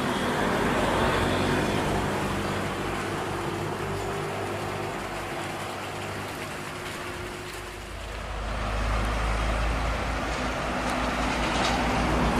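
A bus and a trailer truck roll down a curved, descending road, producing a continuous roar of tires and engines that dips briefly, then swells again as a heavy vehicle passes close by.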